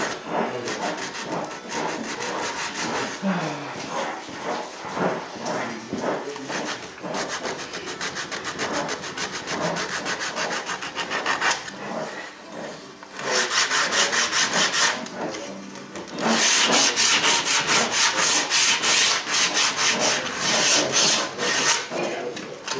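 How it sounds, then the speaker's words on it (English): Sandpaper rubs along the grain of a wooden toboggan piece in steady back-and-forth strokes, close and loud, growing faster and harsher in the second half. "Make sure you sand with the grain though"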